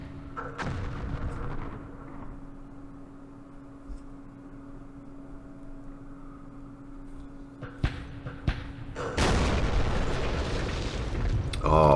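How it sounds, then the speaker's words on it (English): Artillery fire in Campaign Series Vietnam, set in the 1968 Battle of Pleiku. Deep booming blasts come at the start and again near the end, with a couple of sharp cracks between them and a voice talking over the quieter stretch. "There's the artillery"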